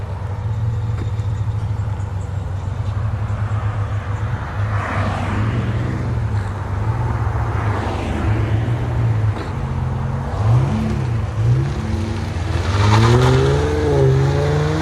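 A 2017 Infiniti Q50 with a 3.0L turbo V6 and Borla Pro-XS exhaust, engine droning steadily with rising and falling rev sweeps, loudest toward the end, no talking.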